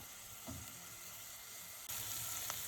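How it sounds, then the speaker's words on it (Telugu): Onions frying in a pan give a continuous close sizzle with a couple of brief stirring scrapes, the hiss growing brighter and louder partway through. "సో ఉల్లిపాయ బాగా వేగే వరకు మనం మిక్స్ చేస్తూ ఉండాలి ఫ్రెండ్స్"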